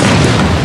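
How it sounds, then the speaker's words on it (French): A grenade detonates in the mobile strategy game Gears Pop, a short, loud, dense boom that fills the whole moment with no trailing silence. "Un petit coup de grenade."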